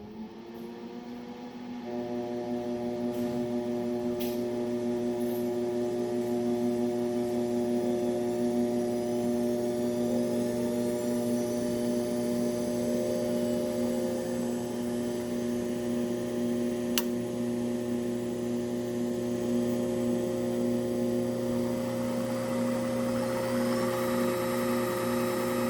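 A LapMaster Wolters 12 lapping and polishing machine spins up to higher speed, a steady tonal machine hum with layered whining tones that starts after a quiet moment and holds constant, punctuated by a few faint clicks.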